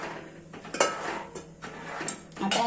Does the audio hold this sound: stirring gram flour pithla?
yes